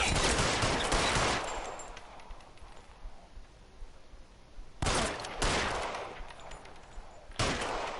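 Gunfire in the video game L.A. Noire, with loud broadband shots and bursts at the start and again near the five- and seven-second marks, set apart by quieter stretches of game ambience and no talk.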